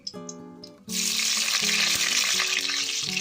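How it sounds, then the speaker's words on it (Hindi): Onions drop into a hot pan of oil and burst into a loud, steady sizzle that runs on alone after a short quieter lead-in, while a kadhai mushroom dish is being cooked. "अब इसी में मैं प्याज डाल दूंगी।"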